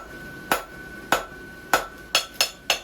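Six sharp hammer blows on a steel horse hoof template, each a bright metallic strike with a short ringing decay, spaced roughly half a second apart and quickening toward the end, close and clear with no talk.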